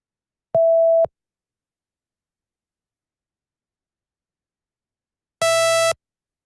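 A pure, steady tone sounds for half a second, then silence, followed by a brighter, buzzier tone of similar pitch and length.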